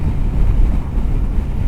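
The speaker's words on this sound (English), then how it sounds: "it's windy today" Strong wind on the back end of a storm, heavy low buffeting against the microphone, loud and continuous throughout with no voices.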